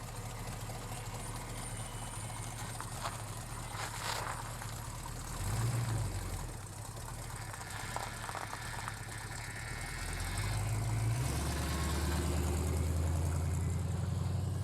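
A Chevrolet C10 pickup truck engine, just revived after being stuck, idles low and steady at a distance, briefly revving, then settling into a louder, deeper running rumble toward the end.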